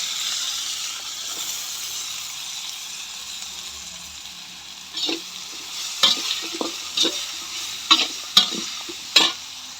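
Mixed vegetables stir-fried in a cumin, garlic and spice tempering over a wood-fired stove, a steady hiss broken by a run of sharp scraping stirs toward the end.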